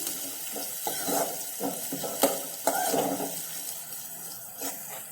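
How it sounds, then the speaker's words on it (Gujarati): Onion sautéing in a pan over a medium gas flame, a quiet sizzle shaped by bursts of stirring and spatula scrapes in uneven strokes, no voices. "ગેસની ફ્લેમ આપણે મીડિયમ રાખી અને આ ડુંગળીને એક મિનિટ માટે આ રીતે સાંકળીશું"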